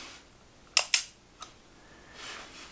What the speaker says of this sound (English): So you cock the shutter and then you can fire it.